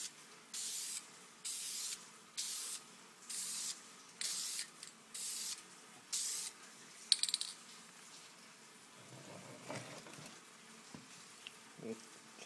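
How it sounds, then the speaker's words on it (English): An aerosol spray paint can hisses in about eight short, even bursts, misting tint over car tail lights, each spray loud and close with brief pauses between, followed by quieter handling noises. "give it a quick little spray"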